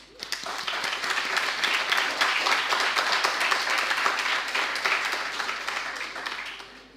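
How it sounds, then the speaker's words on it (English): A crowd applauds steadily for several seconds, dense and loud, rising quickly and tapering off at the end. "I want you to clap our teachers."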